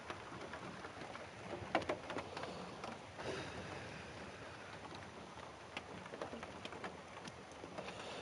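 Slow, steady rain falls as a soft, continuous patter with a few scattered louder drops, faint and even throughout with no voices.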